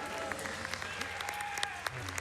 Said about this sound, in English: if we could get a cheer from chat, for Fir MJ.